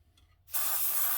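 After a quiet moment, a loud, steady hiss of spray from a spray gun painting a model airplane's engine nacelle starts abruptly and continues without a break to the end.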